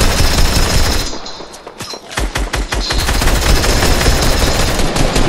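Loud continuous automatic gunfire fills a video game shooter battle, a dense roar that drops briefly into a few separate sharp shots before the heavy firing resumes.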